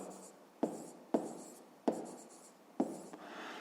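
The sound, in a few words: writing an asterisk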